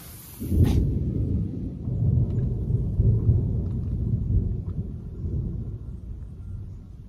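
A deep, rolling rumble of thunder swells in and keeps grumbling for several seconds, loud and low with no voices.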